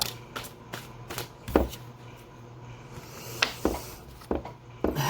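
Tarot cards are shuffled close by, a run of soft riffling slaps and taps in irregular bursts over a low steady hum.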